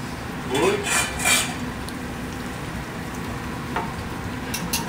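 Polenta is stirred in a pot with a utensil, giving a few scraping, clinking strokes early on over a steady low kitchen rumble, then quieter.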